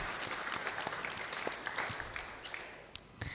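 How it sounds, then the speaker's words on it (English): A small gathering at a Sunday love feast applauds to welcome newcomers, a warm continuous rattle of clapping hands with a few crisp individual claps near the end, unaccompanied by speech. "Let's give a round of applause."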